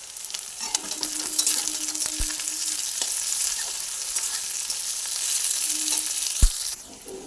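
Onion, a ground turmeric, coriander and cumin masala and slit green chillies frying in a pan: a loud, close, continuous sizzle with scattered crackles and a couple of dull knocks, with no talking.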